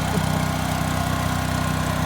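A generator engine runs inside a noise-isolating shed, giving a steady, loud, droning hum with an even mechanical rumble throughout and no talking.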